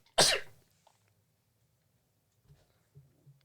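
A single sharp sneeze bursts out near the start, followed by a few faint breaths or small sounds in an otherwise quiet room.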